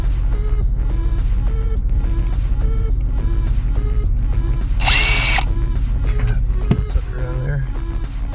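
Power drill backing out screws that hold an RV dinette table in place, steady loud whirring throughout with a brief sharper high-pitched burst midway, heard up close.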